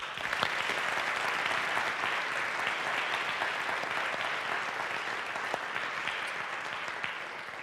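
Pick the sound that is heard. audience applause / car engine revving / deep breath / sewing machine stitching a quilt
audience applause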